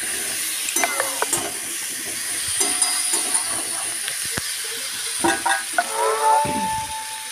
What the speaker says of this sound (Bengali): সমস্ত মশলার মধ্যে আলুগুলোকে আরেকবার কষিয়ে নিতে হবে।